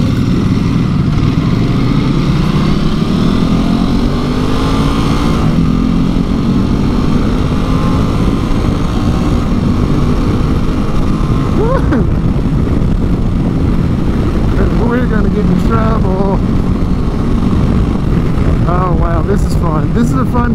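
A Ducati Multistrada V2S twin-cylinder motorcycle engine runs loud and steady while riding, with a rising and falling drone and wind noise, and a voice talks over it near the end.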